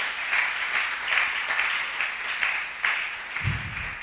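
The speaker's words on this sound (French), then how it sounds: "Tobeteli Yesu maboko." Congregation in a church applauding for Jesus, a steady wash of many hands clapping continuously, moderately loud and diffuse throughout.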